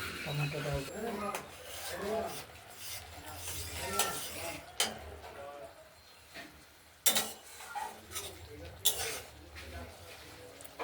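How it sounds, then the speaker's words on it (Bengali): Spice paste frying in a covered pan for a Bengali fish curry, a soft ongoing sizzle with occasional clinks and scrapes of a utensil, while a person talks over it. "মশলাটা কষানো চলছে, এখনো পুরোপুরি হয়নি।"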